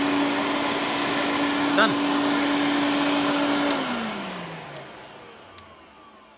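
An Electrolux Turbo 2 vacuum cleaner hums loudly at a steady whine, then powers down, its pitch sliding lower as the motor winds to a stop; a voice speaks briefly.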